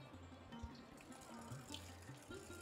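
Water flowing out of a hand-turned wheel pump at a well, a steady splashing gush running continuously at low level with a faint mechanical hum and occasional knocks.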